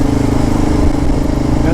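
A motorcycle rides along a toll road in Indonesia, its engine a steady, close drone mixed with road and wind rush for the whole short stretch.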